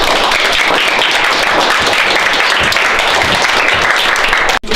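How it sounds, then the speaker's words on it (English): A group of children clap loudly and continuously in a room, a dense, steady wash of applause that cuts off abruptly at the end. "How about a big round of applause?"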